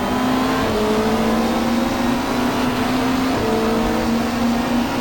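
Racing engine in the GTR2 video game, a 1995 Australian Super Touring Championship car at Mallala, droning loud and steady on the back straight, its pitch stepping and climbing through a gear change.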